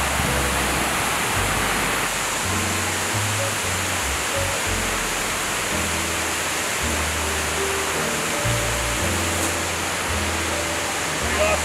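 Waterfall near Skjolden, Norway: a constant broad roar of falling water heard up close, with low wind rumble underneath.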